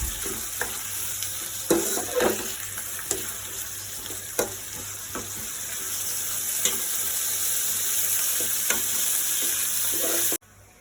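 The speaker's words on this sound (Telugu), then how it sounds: "ఒకసారి మంచిగా కలుపుకోండి" Bagara chicken curry frying in a pan and being stirred, with a continuous close sizzle, periodic scraping strokes and a steady hum, cutting off abruptly near the end.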